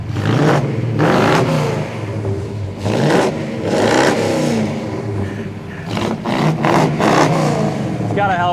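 A 1969 AMC AMX with a 390 cubic inch engine revving loudly in repeated bursts of rising engine roar, close by, with voices talking between the revs.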